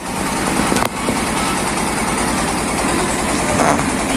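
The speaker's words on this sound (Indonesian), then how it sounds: "Ini adalah mesin poles yang fungsinya untuk menggiling gabah-gabah." A manual rice milling and polishing machine grinds paddy with a continuous engine-like mechanical drone, steady throughout, with one brief knock early on.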